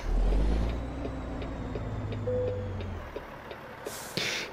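Low rumble of a Detroit diesel truck engine in American Truck Simulator, a steady droning idle with faint ticking, fairly quiet and alone.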